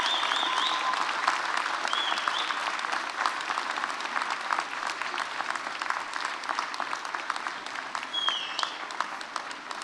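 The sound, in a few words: graduates applauding their parents and supporters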